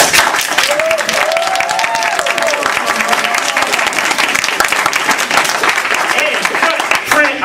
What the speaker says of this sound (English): Please join me with a raucous round of applause for Ginger